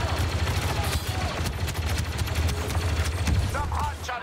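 Blaster gunfire in the video game Star Wars Battlefront 2 during a Galactic Assault match on Yavin 4, a steady rattle of rapid shots over a low rumbling battle backdrop.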